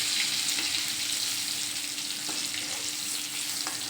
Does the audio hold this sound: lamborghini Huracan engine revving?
no